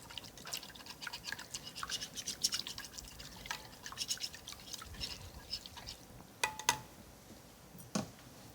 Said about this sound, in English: Gonna whisk this all together.